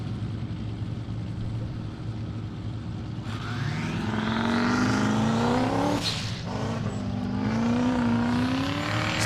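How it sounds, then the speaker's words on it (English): A turbocharged competition car accelerates up a hill climb course, engine rising through several gear changes from a distant hum to a loud near howl, with a sharp burst mid-run; no voices heard. "You can hear that's a turbo motor in that car"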